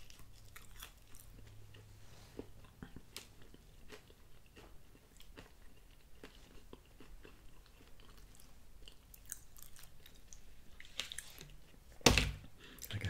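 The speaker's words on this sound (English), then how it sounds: "the crust is so thin that I'll also eat the edges on this one" Quiet close-up chewing of a thin Domino's pepperoni pizza crust, soft repeated bites and wet mouth sounds at low level, with one louder crunchy bite near the end.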